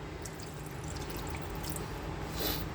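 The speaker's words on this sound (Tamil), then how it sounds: "ஸோ நான் கொஞ்சமாக தான் தண்ணி விடுறேன்." A little water is poured into a pan of mutton liver in a kitchen, a steady soft splashing trickle lasting throughout at close range.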